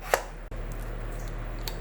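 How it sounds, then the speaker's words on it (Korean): Kitchen knife cutting potatoes into very thin strips on a board at home, a single crisp chop sounding close and clear over a quiet room hum. "채를 굉장히 얇게 썰어야 맛있어요."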